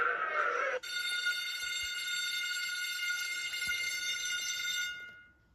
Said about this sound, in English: Let's turn on the fire alarm.